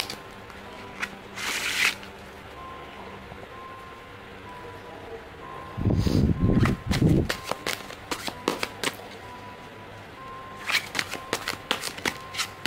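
Tarot cards being shuffled by hand indoors make repeated quick riffling and flicking bursts, close up, between stretches of soft handling and pauses.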